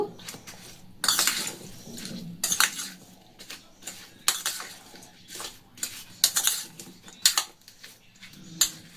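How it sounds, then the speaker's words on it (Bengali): Guava pieces are tossed with chaat masala in a bowl, giving irregular clinks and scrapes of utensil against dish, several sharp bursts over a quiet background. "একটু দেবো চাট মশলা, এটা খুব সুন্দর করে মাখিয়ে নেব।"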